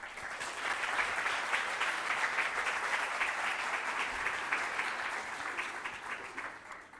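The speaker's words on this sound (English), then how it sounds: "So please, a big applause for Sara." A conference audience at KHIPU 2025 gives a speaker sustained applause that swells, holds and then fades, heard at a distance with no talking.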